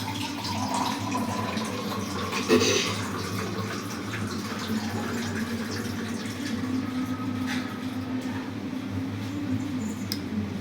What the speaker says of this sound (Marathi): 1 ग्लासभर पाणी टाकायचं